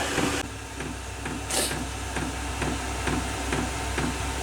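A Vevor diesel heater runs with its fan blowing, making a steady close whoosh under a regular, evenly spaced ticking pulse. A sharp hiss bursts out briefly early on.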